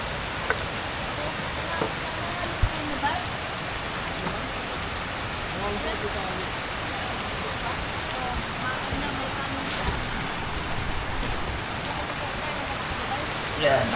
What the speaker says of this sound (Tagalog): grabe yung ulan dito ngayon